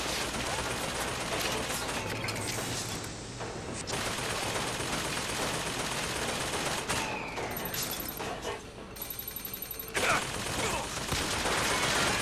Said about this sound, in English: How are you shooting me if I'm like clear over here?